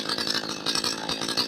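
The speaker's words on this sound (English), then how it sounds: "now the chainsaw is warming up a little bit." A 62cc Perla Barb chainsaw runs steadily while warming up before bucking a stringybark gum tree, its buzzing engine note pulsing slightly and sounding loud and close.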